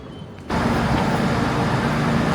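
A West Midlands train passing near Birmingham starts as a sudden loud roar after a quiet half second, then stays as a dense, steady rumble that covers the rest of the clip.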